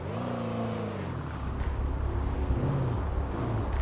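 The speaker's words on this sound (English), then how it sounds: "Bro, I like these new Chargers." A police Dodge Charger in a GTA roleplay game revs and accelerates, its engine note climbing and then settling into a steady driving rumble, with a voice speaking briefly at the start.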